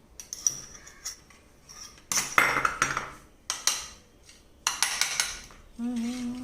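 Metal plate and utensils clinking and scraping while a plate is greased with ghee, several sharp close clatters in bursts, then a brief hum near the end.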